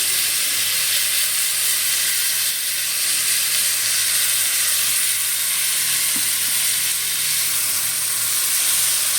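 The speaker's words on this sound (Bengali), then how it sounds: "এবার যে পেস্টটা বানালাম ওই পেস্টটা এবার এর মধ্যে দিয়ে দেবো" Spice paste hits sliced pointed gourd frying in hot oil, giving a loud, steady sizzle and hiss that holds for the whole stretch, with no voices over it.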